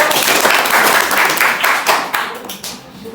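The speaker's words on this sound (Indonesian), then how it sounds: "Berikan tepuk tangan untuk kelompok 1." A classroom of students claps for a group about to give a presentation, brisk close hand claps that swell and then taper off over about three seconds.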